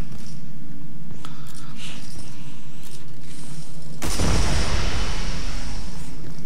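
A barrel is destroyed in the video game Red Faction Armageddon. A loud, sudden blast cuts through a low rumbling background and then sustains as a heavy roaring crash.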